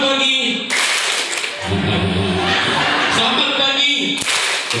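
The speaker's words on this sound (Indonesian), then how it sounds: "tepuk tangan Anda 2 kali" An audience at a parenting seminar in a modern pesantren claps together over a few seconds, bursts of group hand-claps mixed with chuckling and laughter, while a presenter keeps talking over it.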